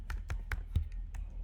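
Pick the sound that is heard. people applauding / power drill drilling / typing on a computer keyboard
typing on a computer keyboard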